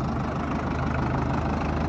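A Powertrac Euro 55 four-cylinder tractor of about 50 HP runs steadily with its throttle open, a loud, continuous, close diesel drone with no pauses.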